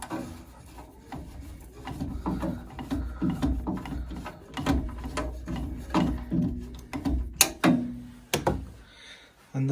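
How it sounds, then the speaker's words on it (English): Someone works a screw loose by hand on a leaking Worcester Bosch boiler, making close, uneven scraping, rubbing and small metallic clicks in irregular bursts, with brief pauses between turns and no speech. "Just undo that screw."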